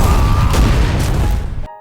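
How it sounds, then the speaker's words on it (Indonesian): A grenade explodes in a film scene as a loud, dense blast that rumbles for over a second, then tails off and cuts out abruptly. "Dan di saat itu pula ledakan keras terjadi."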